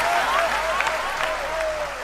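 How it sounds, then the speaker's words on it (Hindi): Audience applause at a Hindi poetry recitation, a dense patter of clapping from a crowd, steady and close, with a voice speaking over it. "तालियों की गूंज से हौसला बढ़ा दो आप"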